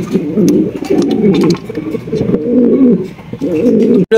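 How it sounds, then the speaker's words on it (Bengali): A pair of pigeons coo close by in repeated low, throaty rolling phrases, with faint chirps and background noise. "মনের মতো এক জোড়া কবুতর"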